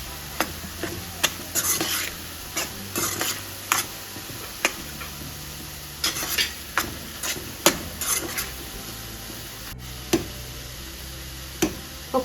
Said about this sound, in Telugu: ఇలా కలుపుకుంటూ ఉండాలి.